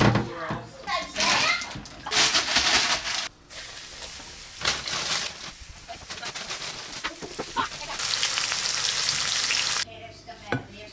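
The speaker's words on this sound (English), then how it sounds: "Let's cook these up, eh, Charlie?" Freshly caught mullet or flounder frying in a pan outdoors, a steady sizzle that rises and falls across the clip, with children and adults chattering over it and birds faintly in the background.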